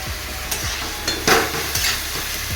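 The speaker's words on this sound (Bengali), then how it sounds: "মশলাগুলো দেওয়ার পরে আমি একটু কষবো।" Spices for chicken curry, among them meat masala, Kashmiri chilli powder and curry masala, sizzle in a pan while being stirred, with a steady fry and rhythmic scraping strokes repeating roughly every half second.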